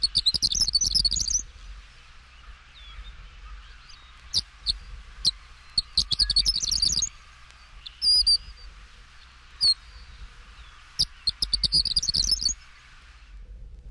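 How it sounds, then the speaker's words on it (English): Horned Lark song from the eastern and central North American field guide: bursts of high, tinkling twitters and rising trills repeat across the recording. Quiet pauses separate them, and a faint steady hiss runs underneath. "Page 156, Horned Lark."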